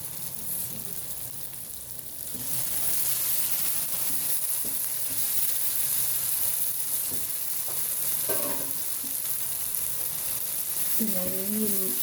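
Masala frying in a pan for qeema-stuffed capsicum (shimla mirch), a steady close sizzle running throughout with occasional stirring scrapes and brief clinks, no talk.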